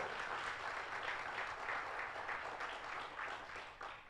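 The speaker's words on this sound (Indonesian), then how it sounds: "mana berikan tepuk tangan yang meriah" Congregation applause at an Indonesian church service, a steady dense wash of clapping from many hands that holds at even loudness throughout and tapers slightly at the end.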